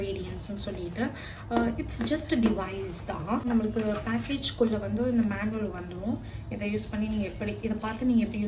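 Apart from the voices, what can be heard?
No distinct noise like a dog, phone or traffic.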